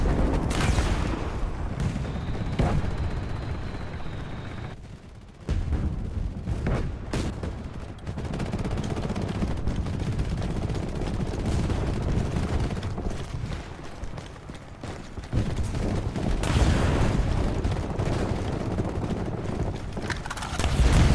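Dense game gunfire from infantry weapons aimed at a tank, with the BTR-3E1 armored vehicle nearby, rattling in sustained bursts and booms that run nearly without pause across the whole span, loud and close.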